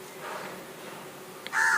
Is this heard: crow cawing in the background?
yes